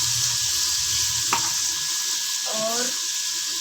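Hot oil sizzles in a cooking pot (handi) with black pepper powder, a steady close hiss interrupted by a brief clink of a utensil.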